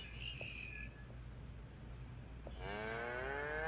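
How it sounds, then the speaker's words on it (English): A cow moos once toward the end, a long, loud, harmonic low call rising out of a steady background hum, following a short stretch of faint high chirping. "Cow."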